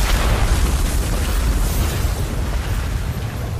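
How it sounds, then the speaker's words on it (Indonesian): A huge, sustained explosion from a donghua fantasy animation, a loud continuous roaring blast with heavy low rumble that stays dense and forceful for several seconds without any pause. "Dan terjadilah ledakan yang begitu dahsyat."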